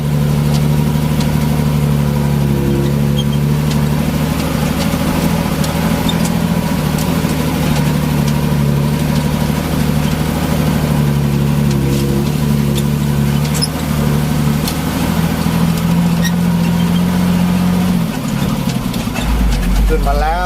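A car engine runs at a steady, loud idle close by for about eighteen seconds, its low hum holding even before the sound shifts and changes pitch near the end.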